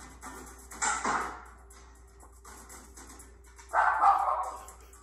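A dog lets out two short bursts of barking a few seconds apart, fairly close, over a steady low background hum.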